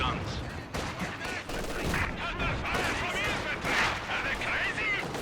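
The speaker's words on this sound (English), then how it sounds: "One of our anti-tank guns." In Company of Heroes 2, an anti-tank gun fires amid dense battle noise, with booming shots and crackling gunfire layered under a commentator's voice.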